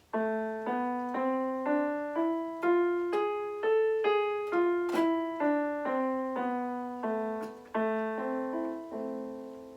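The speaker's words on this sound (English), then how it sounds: "So the minor scale sounds like this." A single melodic instrument plays an ascending and descending minor scale with a raised seventh, one note at a time in an even, steady rhythm, clear and alone.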